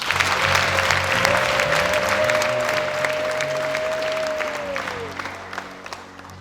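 A crowd claps steadily for several seconds, with a long sustained tone held beneath the applause before it fades.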